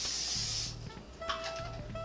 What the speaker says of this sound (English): And spray it with some oil. I like using olive oil,